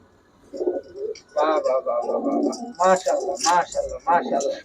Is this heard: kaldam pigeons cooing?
yes